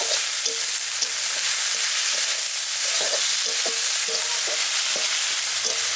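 Greens frying and being stirred in a wok, a steady loud sizzle with repeated scraping stir strokes roughly every half second, close and continuous with no talking.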